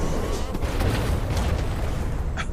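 Explosions in the video game Alice: Madness Returns, a continuous heavy, booming rumble with a crackly burst near the end, loud and close in the game mix.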